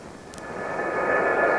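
An F-4 jet engine runs up, its roar swelling steadily louder over a short stretch, a broad rushing whine heard alone.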